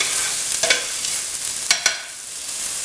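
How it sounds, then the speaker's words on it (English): Onions and garlic sauté in a pan for marinara sauce, giving a steady close sizzle with a few sharp clinks and stirring scrapes partway through, and no voices. "We're going to saute this for about a minute and a half."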